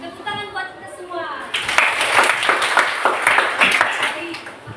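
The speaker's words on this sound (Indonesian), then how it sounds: "Tepuk tangan buat kita semua." Children in a fourth-grade elementary classroom break into clapping after a brief opening of voices, a dense burst of many hands continuing steadily with chatter mixed in.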